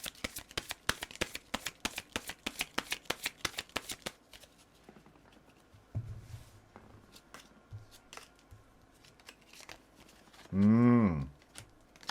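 Tarot cards are shuffled in rapid crisp riffles and flicks for about four seconds, followed by quieter scattered card handling and a brief loud zipper-like sweep near the end.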